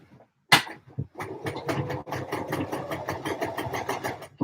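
Sewing machine running in a steady series of rapid stitching bursts, close and fairly loud, starting after a sharp click, for a hand-sewn NCW craft project made in a home setting.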